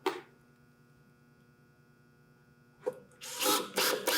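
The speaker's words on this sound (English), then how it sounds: "I'm having success getting these screws in because they are all coarse threaded screws." A power drill drives coarse-threaded screws into wood for 1x6 framing joinery. A low motor hum briefly spins up, fades, then returns with louder whirring and grinding bursts toward the end, close by.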